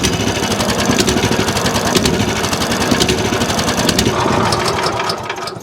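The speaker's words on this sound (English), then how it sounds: "Doesn't want to idle without the choke on." A small engine on a wood mill idles with the choke on, running as a steady, loud, rough chugging drone with a fast rhythmic pulse and no talk.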